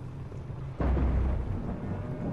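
Storm in the video game Fortnite: a sudden deep, rumbling roar like close thunder bursts in partway through and keeps churning loudly to the end over a lower background hum.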